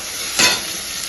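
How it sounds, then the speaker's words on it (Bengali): Gravy is poured into a pan of frying tomato and onion for paneer butter masala, a brief surge of hissing over a steady, close, loud sizzle. "টমেটো পেঁয়াজটা খুব ভালো করে ভেজে নিয়ে তারপরে আমি এর মধ্যে গ্রেভিটা ছেড়ে দেবো"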